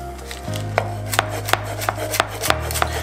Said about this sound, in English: Some flat leaf parsley, just run the knife through it.